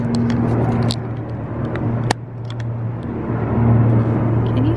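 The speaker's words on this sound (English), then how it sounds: "Those are not normal helicopters. They're like war helicopters." Military helicopters pass overhead with a steady, droning rotor and engine rumble that stays loud throughout, swelling slightly toward the end, with a brief sharp click midway.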